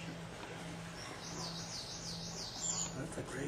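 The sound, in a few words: chestnut-crowned laughingthrush calling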